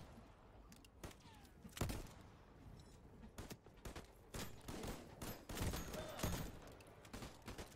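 Several players fire guns together in a multiplayer video game, a dense fusillade of overlapping shots and bursts that pop and crack irregularly across the whole stretch, fairly loud and close with no talk over them.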